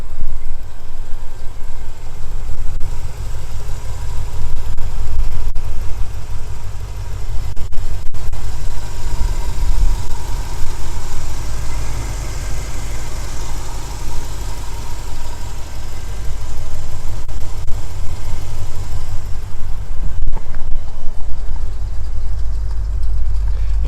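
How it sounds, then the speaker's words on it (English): A 1981 Corvette engine with a Holley 650 dual-feed carburetor idles smoothly and steadily at close range, a low even rumble without ticking or tapping, no voices over it. "You can tell the engine's very quiet."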